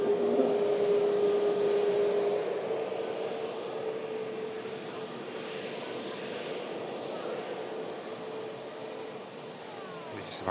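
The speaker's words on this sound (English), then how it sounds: "We're just about to now capture the Lufthansa from Frankfurt A321" A Lufthansa Airbus A321 from Frankfurt arrives at Manchester Airport, its engine drone a steady moderate roar with a sustained tonal whine that slowly fades, heard from a distance.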